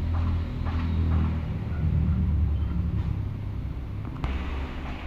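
A Toyota 4K gasoline engine in an owner-type jeep idles with a steady low rumble that stays even and continuous, close by and heard alone.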